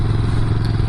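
A Honda CB350 with a 325cc 170-degree parallel-twin engine runs loud and close, a dense, throbbing low exhaust note pulsing steadily for a brief moment with no voices.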